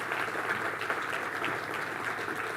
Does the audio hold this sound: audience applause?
yes